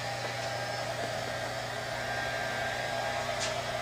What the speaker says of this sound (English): you can use a small hair dryer if you use caution not to get too much heat on the adjacent foam surfaces